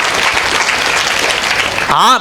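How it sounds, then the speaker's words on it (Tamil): Audience applause at a Tamil debate-style panel program held for a Nagarathar Murugan temple consecration celebration, a dense steady clapping from a large crowd that fills the hall, ending with a brief swooping tone. "நல்ல கைதட்டு கொடுங்கய்யா அந்த புள்ள."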